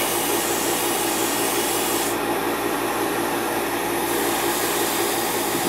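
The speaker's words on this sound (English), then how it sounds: "apply a little bit more from, you know, from the airbrush" An airbrush sprays paint onto a Gundam plastic model in a continuous hiss, with a steady compressor-like hum and pulse underneath throughout.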